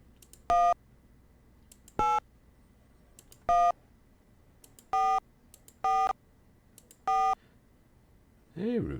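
An early-1990s cell phone in the X-Files video game dials a number: six clean DTMF key tones spaced about a second apart over a quiet background, with a short sweeping electronic sound at the end.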